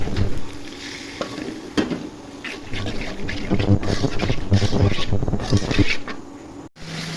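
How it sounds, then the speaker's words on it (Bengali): Steady sizzling as turmeric, chili, coriander and salt fry with water in a pan, with occasional stirring scrapes and clinks of utensils, continuous and close throughout. "এখন হলুদ মরিচ ধনিয়া লবণ একসাথে দিয়ে দেবো। পানি দিয়ে কষিয়ে নিব।"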